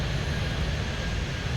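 A jet airliner in the game Airport Madness 3D rolls for takeoff, a steady, loud engine roar with a heavy low rumble that holds constant throughout, with no voices.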